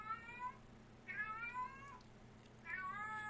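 A house cat meows for food three times in drawn-out, rising-falling cries, close and fairly loud over a faint background hum.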